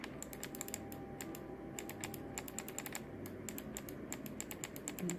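Fast, irregular clacking keystrokes on a low-profile mechanical keyboard, close and crisp, in quick bursts over a faint steady background hiss.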